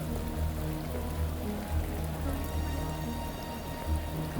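Rain falls in the city streets of the video game Shadows of Doubt, a steady patter and hiss on surfaces that continues evenly, with some low background hum beneath it.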